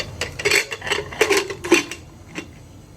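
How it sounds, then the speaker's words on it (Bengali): A lid goes onto a cooking pot of simmering cow-leg paya (nehari), with a short run of close metallic clanks and clatters before it settles into quiet. "সব মিক্স করা হয়ে গেছে এখন আমি ঢাকনাটা লাগিয়ে দিব"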